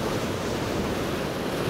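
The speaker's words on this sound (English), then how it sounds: "Big wave coming in," A big ocean wave rushing in over coastal rocks: a loud, close, steady wash of surf and churning water, with wind buffeting the microphone and no voices.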